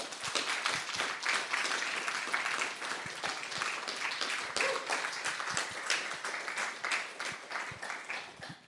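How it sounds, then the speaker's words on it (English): An assembly crowd at a political party general meeting applauds, a sustained, moderately faint rattle of clapping with crisp individual hand claps standing out near the front, tapering toward the end. "also a big round of applause for you"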